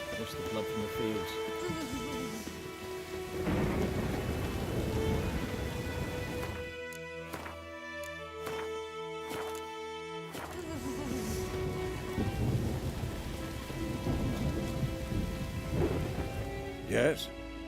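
Rain and thunder in The Witcher video game: continuous rainfall with low rumbling thunder rolling through, steady and fairly quiet, with a brief pause in the rain noise partway through.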